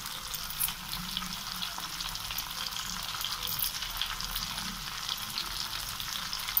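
Tomatoes and tomato puree fry in a pan with ginger-garlic paste, salt, chilli and turmeric, giving a steady close sizzle and crackle with faint stirring under it, no voices.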